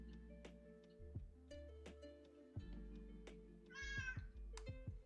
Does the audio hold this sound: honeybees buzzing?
no